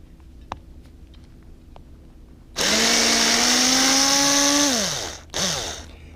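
A power driver winds up sharply and whines steadily for about two and a half seconds while unscrewing a Torx screw, then spins down, followed by a short second burst; close and loud after a few faint clicks, with no talking.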